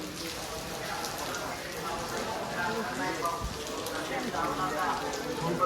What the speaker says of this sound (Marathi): पाऊस तरी तर खूप आहे भावना.